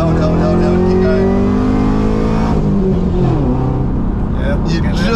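A tuned Camaro ZL1 launches hard, its engine roaring loudly with rising pitch as it accelerates through the gear, then the note shifts and settles; a voice talks over the engine noise.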